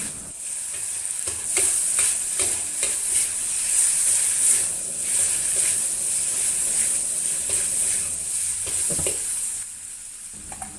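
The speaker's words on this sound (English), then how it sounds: "Now combine everything together, turn to high heat and generate the wok aroma" Drunken noodles with shrimp stir-fry in a hot wok over high heat, giving a loud, steady sizzle with rhythmic scraping and tossing strokes throughout.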